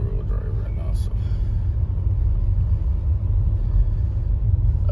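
Steady low rumble of a car driving in four-wheel drive along a snowy road during a Calgary snowstorm, a continuous deep road and tire drone heard from inside the cabin.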